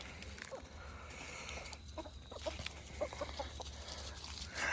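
Chickens in a backyard coop cluck in short, scattered calls over a steady low hum, moderately close and fairly quiet throughout.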